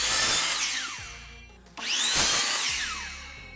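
A power saw cuts trim pieces for a small wooden planter box in two close, loud bursts, each ending in a falling whine with a brief gap between cuts.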